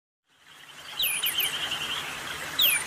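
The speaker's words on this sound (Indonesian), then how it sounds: "Burung pleci." An oriental white-eye (pleci) sings a run of quick, high thin chirps and trills, close and fairly clear over a soft hiss of background noise.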